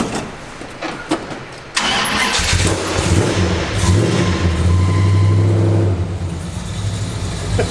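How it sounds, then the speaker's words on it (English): A rusty old project car, the Joe Dirt car, cranks and fires up in a garage: a short stutter of cranking, then the engine catches and settles into a loud, steady rumbling idle close by. "Fire right up."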